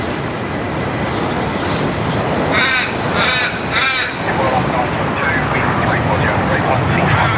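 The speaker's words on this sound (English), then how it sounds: "the noisy crow" A crow caws loudly and very close at a spot beside Melbourne Airport, letting out three harsh calls in quick succession. A constant rumbling background sits under the calls.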